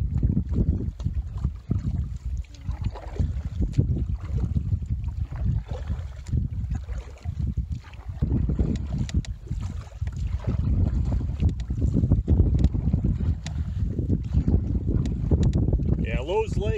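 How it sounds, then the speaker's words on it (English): Canoe paddle strokes splash and slosh in choppy lake water amid steady wind gusting across the microphone, with lapping water throughout and no clear talking. "we're kind of using this island as a windbreak as we paddle."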